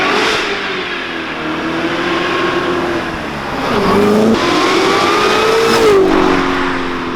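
A supercharged 757 HP Chevy C7 Corvette Z06 in Callaway edition revs hard, its engine note climbing and dropping through several loud, close pulls, swelling louder near the end.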